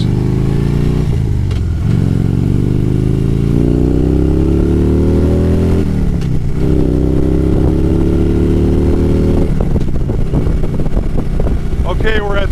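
A car cruising at 70 miles per hour, engine droning steadily with rising pitch as it accelerates, loud and continuous, with talk from inside over it.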